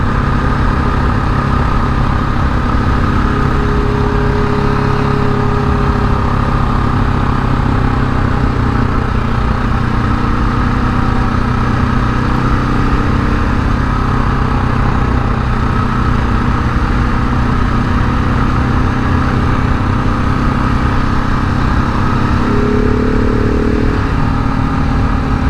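A KTM 690 Enduro single-cylinder motorcycle riding an off-road trail in Minnesota, its engine droning loud and constant throughout with steady throttle and only slight pitch shifts, heavy rumble and wind noise close to the mic.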